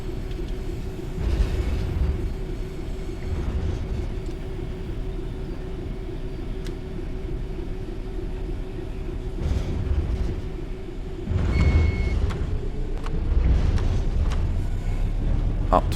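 A rail head treatment train rolls past at King's Norton RHTT depot in Birmingham, a steady low rumble of wheels and engine with a sustained drone, building louder toward the end.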